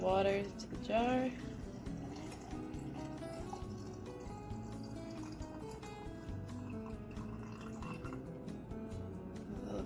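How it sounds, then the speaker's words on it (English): Spring water pours into a jar of tomatoes for fermenting vegetables, a soft, continuous trickling fill heard close but quiet, with a voice briefly at the start. "I'm going to add the water to the jar."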